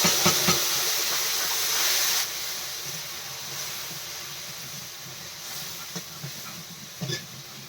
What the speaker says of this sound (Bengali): কড়াই দিয়ে দিচ্ছি 5 ফোড়ন, আর এদিকে কাঁচা লঙ্কা, আদা, রসুন, পেঁয়াজের পেস্টটা দিয়ে দিচ্ছি